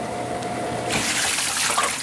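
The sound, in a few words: dishwasher running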